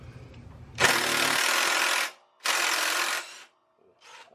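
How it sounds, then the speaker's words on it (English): Two loud bursts from an impact gun working the lower shock absorber bolt on a Honda Super Cub, each about a second long, with a brief third burst trailing after, no talking. "But I'm going to use impact gun"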